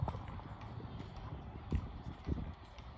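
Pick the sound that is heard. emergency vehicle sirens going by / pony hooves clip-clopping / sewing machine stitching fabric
pony hooves clip-clopping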